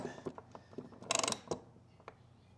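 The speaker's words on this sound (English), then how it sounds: "I'm gonna push in on this pin, kind of hold it with my hand, and I'm gonna tighten it" A socket wrench tightens a nut on the trunk latch pin of a 2024 Can-Am Spyder, giving a quick burst of close ratcheting clicks amid a few soft metallic taps and handling noises.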